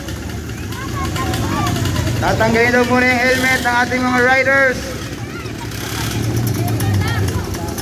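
Kids' pocket bike engines idle at a motocross event in the Philippines, a low steady drone running under loud talk and a voice, with engine noise persisting throughout.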